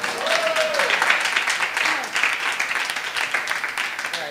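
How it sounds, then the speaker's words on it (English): Audience applause at a 2012 Bitcoin summit, steady broadband clapping from a crowd filling the whole moment, with a faint voice briefly audible underneath. "I paused because I thought you guys were going to clap then."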